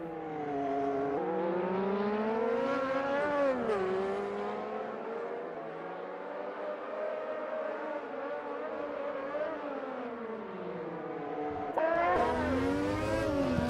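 Formula Classic Gen 1 race cars scream around the 1988 Adelaide circuit in Automobilista 2. Loud, close, high-revving engines wail, their pitch sweeping up and down through gear changes and corners, with several cars overlapping.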